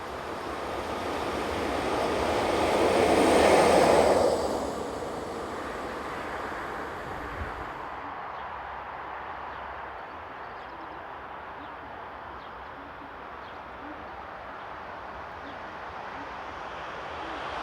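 Class 620 freight locomotive number 006 rolls past outdoors, a broad rushing roar that swells and peaks early, then settles into a long steady rumble as the train continues by at a distance.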